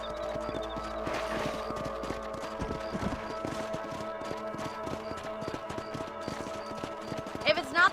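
Horse hooves clip-clop at a steady trot while riding in Red Dead Redemption, a rhythmic patter running throughout under game music and background voices.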